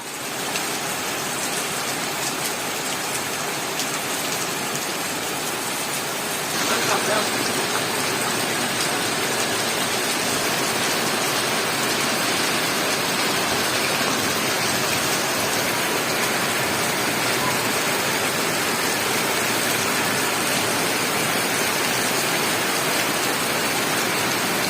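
Heavy rain falling steadily over a rural village school area with red-earth houses in Basung, a dense unbroken hiss that holds constant and loud throughout without any voices.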